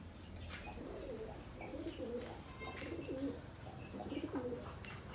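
Domestic pigeons of a Turkish playing breed coo repeatedly in soft, rolling phrases, close by, over a steady background hiss with faint chirps.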